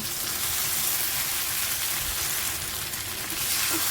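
Pasta tossed into a pan of tomato ketchup and masala, giving a steady, close sizzling fry with soft stirring scrapes running throughout.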